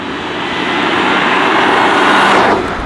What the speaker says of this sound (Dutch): En deze 12 cilinder is gewoon fluisterstil.